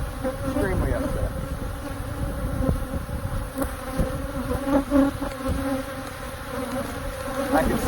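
Agitated honeybees swarming around an opened hive after stinging the beekeeper, a dense continuous buzz close to the microphone with individual bees droning past, no voices.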